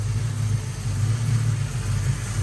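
A 1970 Ford F-100 bumpside pickup with a Crown Victoria engine swap and a newly installed 600 CFM FST carburetor runs close by, a steady loud engine rumble with no talk over it.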